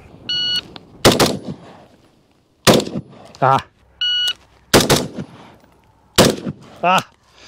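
Rifle shots ring out against steel targets on an outdoor range, a SIG SPEAR LT and Geissele Super Duty in use, each string opened by a shot timer's electronic beep and followed by quick loud cracks, with someone talking between strings.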